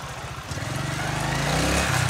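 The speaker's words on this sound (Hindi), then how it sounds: "फिर स्टार्ट करो जी बाइक" A motorcycle engine kicks into life and settles into a steady, rapid low putter, loud and close, running on its own without talk.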